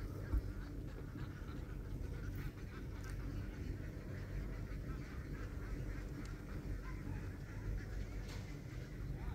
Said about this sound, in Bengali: ভাইয়ারা সেই হাঁসগুলো ধরার জন্য খুবই কষ্ট করছে।